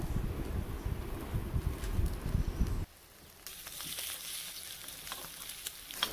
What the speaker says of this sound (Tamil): முட்டை ஒரு சைடு வெந்துருச்சின்னு மற்ற சைடு மாற்றிக்கலாம்